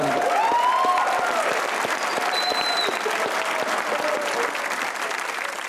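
A studio audience at a Pakistani comedy talk show breaks into sustained, even applause that holds at a steady level, with faint cheering mixed into the clapping.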